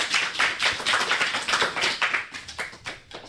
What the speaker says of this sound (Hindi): आइए जोरदार तालियों से उसका स्वागत करते हैं।